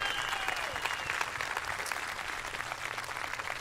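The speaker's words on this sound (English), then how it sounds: "So big round of applause for all our partners." Audience at a town hall meeting applauding, steady vigorous clapping from a sizable indoor crowd, holding for several seconds.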